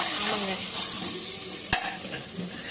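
Masala fries in a pan with a bright, steady sizzle while a spoon stirs it in soft scraping strokes, punctuated by one sharp knock against the pan. No one speaks.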